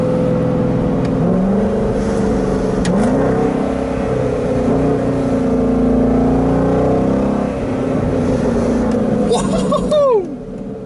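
An Aston Martin GT8 engine accelerating gently, heard from inside the car: a steady, rising drone with climbing harmonics that fades near the end, with some voices over it.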